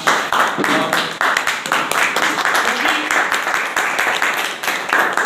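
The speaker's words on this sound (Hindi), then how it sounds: "हम चाहेंगे कि सभी लोग खड़े होकर जोरदार तालियों से स्वागत करें हमारी मैम का" An audience stands and claps loudly in a hall, a dense, steady roar of applause with sharp individual claps throughout.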